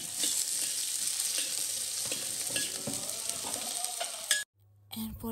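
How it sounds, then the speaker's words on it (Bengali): Chopped onions fry in oil in a wok, giving a continuous close sizzle with occasional stirring clicks that stops abruptly near the end. "কড়াইয়ে আমি পরিমাণ মতো তেল দিয়ে দিয়েছি, এরপর কিছু পেঁয়াজ কুচি দিয়ে ভেজে নেব।"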